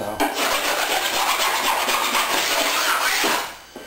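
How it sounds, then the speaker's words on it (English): A hand rasp scrapes rapidly over fiberglass seam tape in repeated rough strokes, loud and close, continuing until the scraping trails off near the end. "I'll go back to my rasp here because I can get a lot more done."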